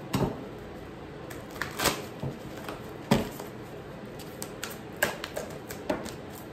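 Quiet, irregular taps and soft riffling as tarot cards are shuffled by hand nearby, with a few sharper clicks over a low background hiss.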